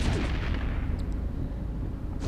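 Spaceship barrage guns fire in the EVE Echoes space game during a low-security PvP fight involving a Cynabal cruiser and a Drake, a dense, continuous rumbling volley of booming shots with steady low-end roar throughout.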